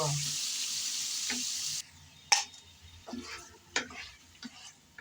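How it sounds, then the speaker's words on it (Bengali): Chicken pieces with turmeric frying in potato-frying oil are stirred in a pan: a loud hiss that cuts off abruptly, then scattered scrapes and clanks over a quieter sizzle, close by. "হলুদ দিয়ে নেড়ে চেড়ে ভালোভাবে চিকেনগুলো তিন চার মিনিটের মতন ভেজে নেব"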